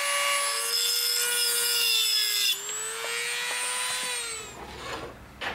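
A cheap stainless steel spoon being cut for a spiral ring, a loud close whining cut with a ringing metallic tone that drops and steadies, then fades into a few small handling knocks.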